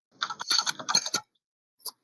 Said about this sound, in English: Wow, I just realized how loud my keyboard is.